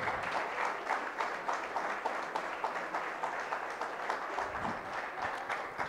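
An audience gives sustained applause to prize winners at a project competition award ceremony, with many hands clapping steadily and evenly, moderately loud, and barely any voices mixed in.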